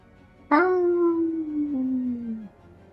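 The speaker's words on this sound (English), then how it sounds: "And then you hear howling." A single long, mournful howl in a Southern Gothic horror setting rises sharply, then holds a steady, slightly falling tone for about two seconds before cutting off. It sounds fairly close and stands alone over a quiet background.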